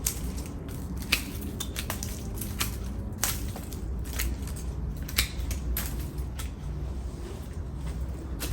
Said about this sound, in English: Again, you see these long tap roots. I think I can cut that off.